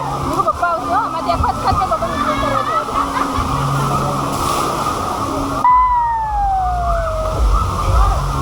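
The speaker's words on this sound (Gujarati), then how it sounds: "કેટલું પાણી ફોર્સમાં છે." Forceful water gushing and sloshing at a waterpark, a steady broadband rush running throughout under continuous nearby chatter and shouting, with a rising whistle-like tone near the end.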